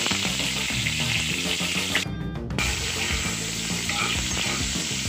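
Onion and ginger sautéing in hot oil in a pan, a loud close crackling sizzle that runs steadily throughout with a short dip partway through.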